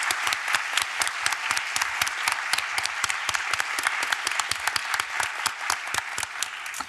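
Steady crowd applause at a law congress on fashion law, dense clapping sustained throughout, fairly loud and continuous with no talk over it.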